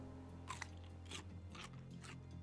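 A character in the survival game Raft eats raw fish, heard as several quick, close crunching bites over a low steady hum.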